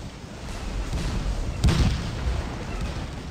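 An artillery battery firing in a Civil War battle at Gettysburg in a strategy game: one heavy cannon boom stands out midway over a low rumbling battlefield background.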